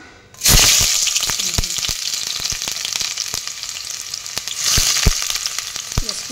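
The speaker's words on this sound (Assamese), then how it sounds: "অলৰেডি মই কেৰাহী গৰম হ'বলৈ দি দিছোঁ, তেলখিনিও গৰম হৈছে। এতিয়া ইয়াতে মই পিঁয়াজখিনি" Onions drop into hot oil in a wok with a sudden loud burst of sizzling, followed by a continuous close crackle with sharp pops and stirring clatter, swelling again near the end.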